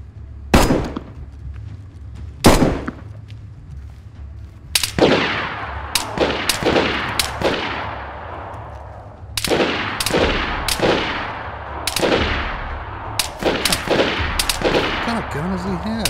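Automatic gunfire in the survival video game DayZ: sharp, loud bursts and single cracks with echoing tails, irregularly spaced, some in rapid clusters, with faint talk in between.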